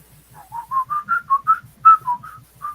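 Someone whistles a short melodic phrase in clear, bouncy notes, close and solo, with a soft rhythmic tapping underneath.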